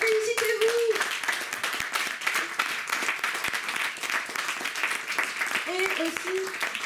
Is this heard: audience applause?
yes